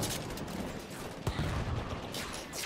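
Dense, continuous automatic turret gunfire in the video game Halo 5 rattles through the whole stretch, a thick wall of shots with one sharper blast near the middle.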